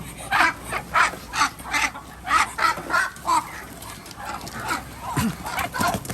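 Laying breeder ducks on a farm quack in a repeated rhythmic series of loud, close calls, with faint background noise between bursts.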